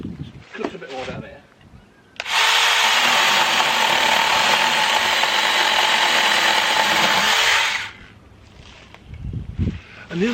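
A small cordless electric mini chainsaw buzzes loudly and steadily for about six seconds as it cuts through wood, with brief talking before and after.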